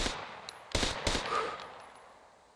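Unsuppressed gunfire from an improvised weapon in the survival shooter SCUM: a faint shot followed by two loud, sharp reports about a third of a second apart, then a fading echoing tail.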